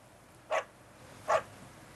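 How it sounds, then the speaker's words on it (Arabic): A female dog barks twice, short sharp yaps about a second apart, heard alone at moderate distance in a scene from a 2009 Egyptian television comedy series. "صوت الكلب مش ذكر، ده صوت كلبة."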